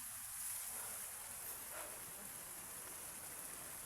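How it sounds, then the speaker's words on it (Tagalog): Heavy rain during a stormy, typhoon-like downpour, a steady dense hiss of drops pouring down continuously and loudly with no talk over it. "Kasi yung ulan na malakas."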